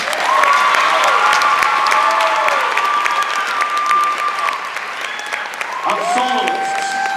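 Sustained applause with some cheering from a crowd at a high school winter concert, honoring the soloists; steady clapping fills the whole stretch, and a few whistle-like tones rise over it.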